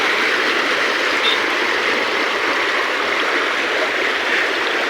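A loud, unbroken rush of floodwater from opened Pong Dam gates roars close by, a dense steady hiss with no pauses or talking.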